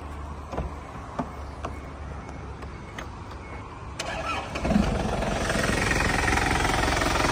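A 2004 Isuzu D-Max Cab with a 2.5-litre engine cranks briefly and catches, then settles into a steady, close diesel running rumble that holds to the end.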